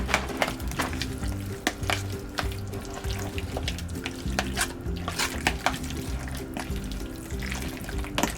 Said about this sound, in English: I'm gonna mix it up.